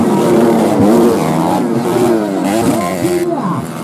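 A racing vehicle's engine revs loud and close, its pitch climbing and falling in repeated sweeps with no pause, while a voice talks over it.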